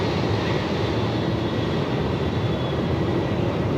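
A Boeing 747-8 comes in to land at Melbourne Airport in strong wind of over 45 knots, its broad, steady engine roar heard from a distance with the gusting wind blended in, loud and unbroken, with no voices.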